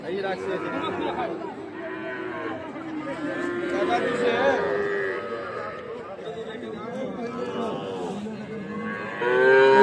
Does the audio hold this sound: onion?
no